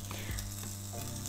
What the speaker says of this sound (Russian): Обжариваем с двух сторон, чтобы он немножко подрумянился.